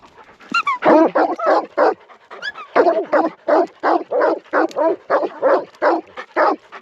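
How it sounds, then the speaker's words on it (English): A dog barks repeatedly and loudly up close, in a steady series of sharp barks with occasional yelps between them. "he's got an awesome bark on him"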